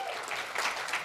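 A crowd applauds and cheers as a dense, continuous wash of clapping with rising swells, fairly loud and close, with no voice standing out.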